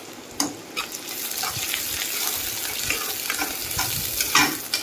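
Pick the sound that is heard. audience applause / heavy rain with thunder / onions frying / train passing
onions frying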